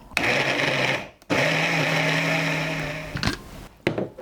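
A food processor grinds chicken breast with mirin, salt and pepper, its motor whirring steadily in a loud burst that stops briefly and then runs again for about two seconds, with no talking.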